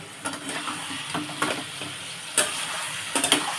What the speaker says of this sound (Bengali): এবারে আমি এটাকে কষবো